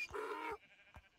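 A donkey in Minecraft gives one short, loud, strained bray, followed by a couple of faint breathy huffs in an otherwise quiet setting.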